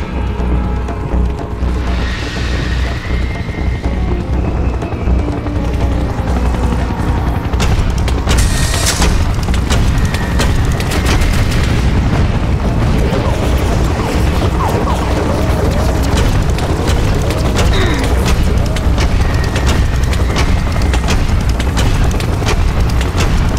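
Rocket launcher blasts and explosions in a Battlefield match on The Lost Temples of Nubia map, heavy booms and rumbling gunfire running continuously and loud throughout, with dense battle noise and no voices.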